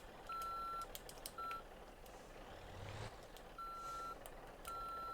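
A truck in the driving game Motor Town gives repeated high reversing beeps in regular bursts, steady and fairly clear over a low engine and ambient hum.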